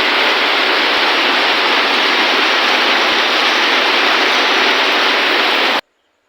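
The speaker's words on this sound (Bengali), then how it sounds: "তোমাদেরকে একটু বৃষ্টির সাউন্ডটা শুনিয়ে দিলাম" Heavy monsoon downpour pouring down in a steady, dense roar, loud and close, cutting off abruptly at the end.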